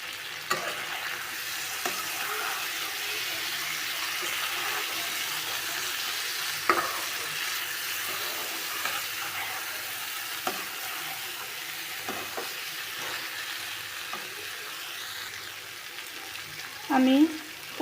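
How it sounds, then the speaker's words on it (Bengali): Boiled potatoes and eggs being stirred into a thick curry in a pan, a steady soft sizzle with occasional scrapes and clinks of a spoon, and a brief louder clatter near the end. "এখন নেড়ে ছেড়ে ঝোল দিয়ে দিব"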